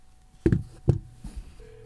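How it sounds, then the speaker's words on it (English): Phone dialing a test call, a few short tone beeps and taps at close range followed by a steady faint tone, with no talking. "Let's do a little test phone call right here."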